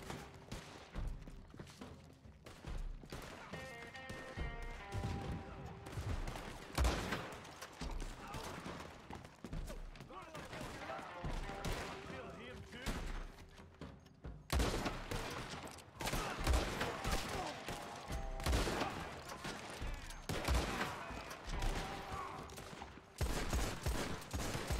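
Rapid, dense bursts of gunfire in the Red Dead Redemption 2 western video game, sharp close shots firing in volleys over the whole stretch, with someone talking at times and occasional hoof-like thumps.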